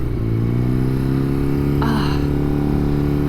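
An old motorcycle engine, older than its rider, drones steadily at close range with a sustained harmonic note, then a brief rising rev and clatter as the rider attempts a gear shift.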